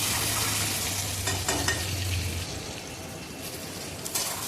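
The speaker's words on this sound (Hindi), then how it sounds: "अब इसको हम तल लेंगे, अच्छी तरह से तलेंगे, पूरा सुनहरा भूनेंगे" Boiled bitter gourd (karela) frying in hot oil, a close, steady sizzle with scraping stirring throughout and a low hum beneath.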